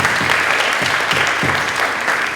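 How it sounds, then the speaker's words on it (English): Steady applause from an audience at a National Junior Honor Society induction ceremony, dense, continuous clapping filling the whole moment at even loudness. "Let's have a round of applause."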